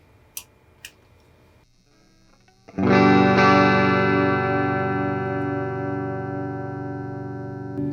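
Electric guitar through a Mesa 20-watt rack power amp with presence turned to minimum, a loud sustained distorted chord struck and left ringing after a couple of faint taps, decaying slowly.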